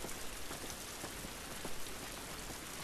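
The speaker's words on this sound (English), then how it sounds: "this rain ain't gonna do it" Steady rain from The Last of Us Part 2 video game pours on surfaces as a dense, even hiss, with scattered droplet patters throughout and no voices.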